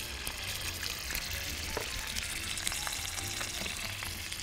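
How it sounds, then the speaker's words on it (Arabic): Garlic sizzles and fries steadily in a hot pan for a calamari pasta dish, a continuous crackling hiss with small pops and faint stirring, close and alone. "دلوقتي ابتدي اشوح معاكم الثوم بتاع الكالاماري."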